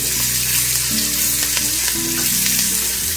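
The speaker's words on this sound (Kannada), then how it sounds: "ಟ್ರಾನ್ಸ್ಪರೆಂಟ್ ಆಗೋವರೆಗೆ ಇದನ್ನು ಫ್ರೈ ಮಾಡಿಕೊಳ್ಬೇಕು" Onions fry in plenty of oil for a pepper breadfruit stir-fry, giving a loud, continuous close sizzle with faint stirring sounds and no talking.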